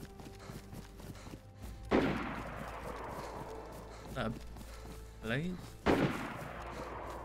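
Gunfire from two different guns in the survival game DayZ. Two sharp, moderately distant shots ring out several seconds apart, with other softer impacts between them, while players talk over the sounds.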